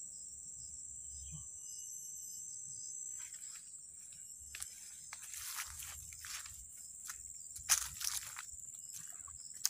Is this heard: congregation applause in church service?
no